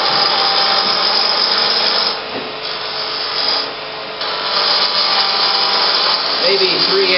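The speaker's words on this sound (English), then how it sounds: "So I just use a parting tool and cut a tenon." A parting tool cuts a tenon into a spinning bud vase blank on a wood lathe, giving a loud, continuous close-up hiss and scrape that dips briefly mid-cut before resuming.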